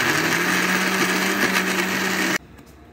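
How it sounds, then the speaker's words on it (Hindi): An electric blender grinds a cooled spice masala in its jug with a loud, steady, high-pitched whir close by, then cuts off abruptly near the end, leaving quiet. "अब इसको हम ग्राइंड करने लगे हैं। जो हमने जग में डाल लिया है।"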